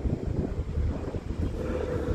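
A night breeze gusts steadily by a ferry at a harbor, making a continuous low rumble of wind across the microphone.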